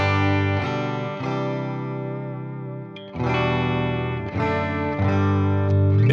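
An electric guitar plays through a Fractal FM9's Deluxe Reverb amp model with vibrato on: a few strummed chords ring out and sustain with a shimmering wobble, clean and alone.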